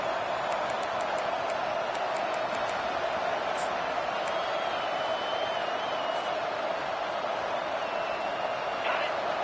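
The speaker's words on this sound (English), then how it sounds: "This crowd, full throat, splitting the eardrums" Stadium crowd at a UCLA vs USC college football game roars loudly and continuously, a dense steady wall of cheering with occasional whistles standing out above it.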